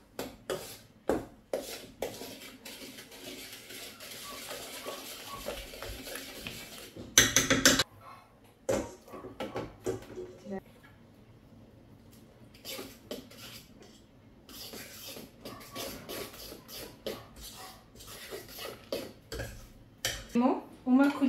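A spoon scrapes and clinks around a bowl while cornmeal cake batter with wheat flour is stirred, in repeated rhythmic rubbing strokes with brief pauses and someone talking over it.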